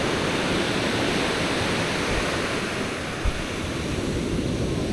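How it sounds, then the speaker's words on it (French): Ocean waves breaking on the beach at Grand-Bassam, Côte d'Ivoire, a steady broad roar of surf with no clear individual crashes, close and loud throughout. "pour le moment, ça semble que les vagues ne sont pas très grandes"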